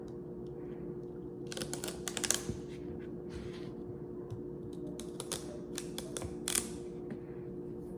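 Knife chopping celery stalks on a cutting board for preschool snacks, with a few clusters of crisp taps and crunchy cuts against a steady low background hum.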